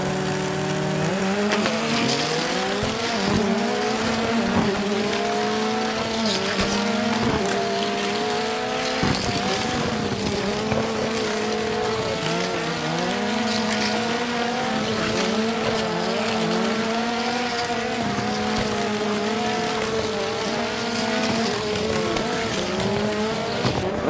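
Motorized diecast toy cars race on a track in a tournament heat, a steady high, whiny motor drone with wavering pitch that holds continuously from start to finish.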